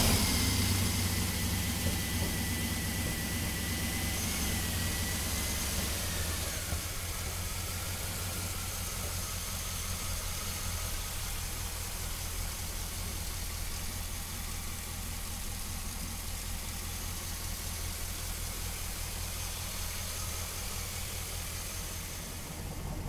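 A 1949 Chevrolet pickup truck fitted with an LS engine runs at a steady idle, a continuous low rumble with broad hiss, close and unbroken throughout with no talking.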